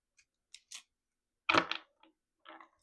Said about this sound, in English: These cards are notoriously hard to shuffle, so bear with me.